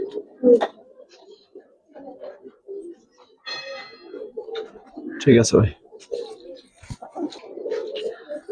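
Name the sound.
Giribaz pangkhi pigeons cooing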